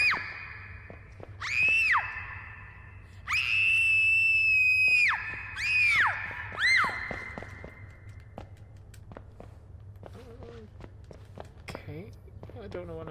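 Drawn-out wailing screams from the horror video game Outlast 2: several rising and falling cries in quick succession, loud and piercing, with quiet footsteps and low ambience between them.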